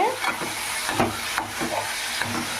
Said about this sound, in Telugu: ఒకసారి తిప్పుకుందామండి